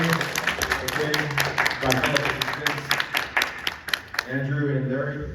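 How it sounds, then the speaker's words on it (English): Applause rises and falls in a scattered convention panel audience clapping for guest panelists while a person talks over it, the clapping fading near the end. "round of applause for our guest panelists, James Messino, Bill Stanton,"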